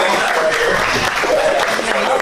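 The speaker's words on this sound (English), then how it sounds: "Round of applause for proud father." Wedding reception guests applaud the proud father, a steady wash of clapping held at close, even loudness for a couple of seconds, with voices mixed in.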